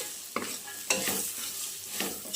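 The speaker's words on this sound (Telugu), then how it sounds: "ఇలా బాగా కారం అంతా బాగా కలిసే కారం ఉప్పు అంతా కలిసేలాగా కలుపుకుందాం" A spoon stirs chili powder and salt together in a pan for a spicy puffed-rice snack, with close scraping strokes and light sizzling that recur in three distinct bursts.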